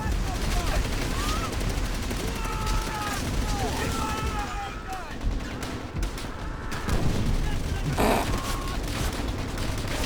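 Dense gunfire from the video game Call of Duty: World at War rattles on at a steady roar, mixed with whistling tones and a dense, continuous battle din under a voice.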